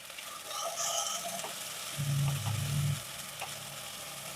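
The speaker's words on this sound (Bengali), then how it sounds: "টমেটোটা ভাজা হয়ে গেছে, নরম হয়ে গেছে।" Chopped tomato fries softly in a pan, a faint steady sizzle with occasional stirring scrapes and a low hum rising briefly in the middle.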